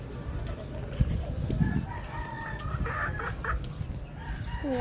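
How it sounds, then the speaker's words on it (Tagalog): Chickens clucking and a rooster crowing amid busy farmyard background noise, with several birds calling at once. "May mga manok dito."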